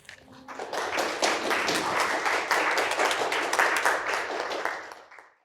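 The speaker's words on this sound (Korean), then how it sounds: "큰 박수로 모시도록 하겠습니다" Sustained audience applause fills a university library book concert hall as a professor is welcomed, loud dense clapping swelling quickly and holding steady for several seconds before tapering off abruptly.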